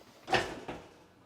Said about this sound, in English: Now that I have the hinges unlocked, I can take the door out.